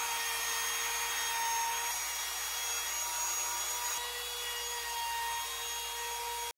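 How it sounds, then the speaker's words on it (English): A handheld laminate trimmer routes wood in a dusty room, giving a loud, continuous high-pitched whine with a steady rushing cutting noise throughout. "This is not really the way you use a laminate trimmer."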